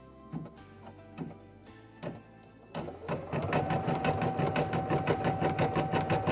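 An embroidery machine stitches ribbon in place on an in-the-hoop 13x18 baby rattle project; after a few isolated clicks it starts a fast, steady, close stitching rhythm with a constant whine that runs loudly to the end.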